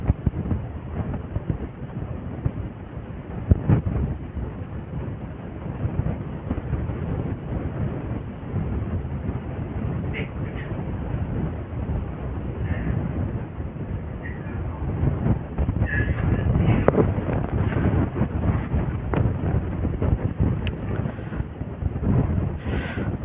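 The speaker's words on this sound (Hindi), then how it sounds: "इन्वर्टर बगल में रखा हुआ है ना, इस वजह से सरसराहट की आवाज़ आ रही है" A power inverter sitting next to the microphone during an online class produces a steady, dull hiss that fills the whole stretch without a break, with a few faint background knocks and rustles.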